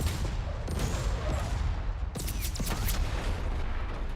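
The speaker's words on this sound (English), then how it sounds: "Oh, do we get the artillery?" An artillery strike in the tactical game Menace: a rolling fusillade of sharp booms with two heavier impacts standing out, loud and close, with no voices over it.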